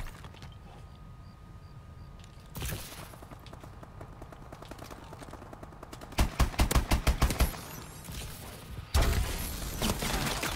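Gunfire in the video game Call of Duty: Advanced Warfare: rapid automatic bursts rattle out in a loud cluster, followed by another sharp volley after a pause, over a low background game hum.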